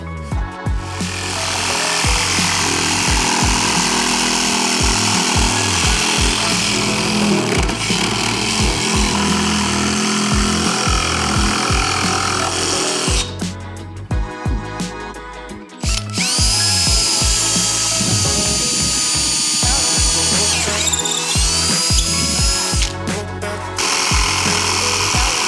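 Milwaukee M12 cordless jigsaw cutting, a loud close rapid buzzing rattle of the reciprocating blade that pauses briefly and restarts, with motor pitch shifting as the cut finishes.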